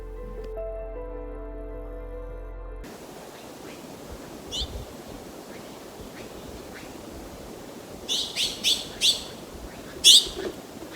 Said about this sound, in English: listening to the songs proclaimed by the birds around me